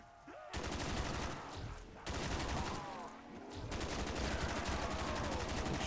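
Rapid automatic gunfire from Black Ops custom zombies, loud sustained bursts separated by short pauses, with brief game noises mixed in.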